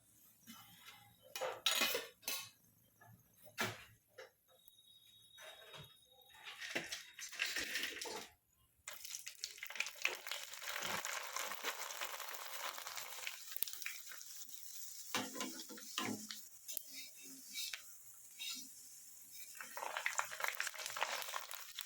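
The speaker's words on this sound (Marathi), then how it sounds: "अशाच मी सगळ्या कुरड्या तळून घेणार आहे" Kurdai deep-frying in hot oil over a wood-fired chulha give loud bursts of sizzling and crackling. Utensils clatter and scrape against the pan between the bursts.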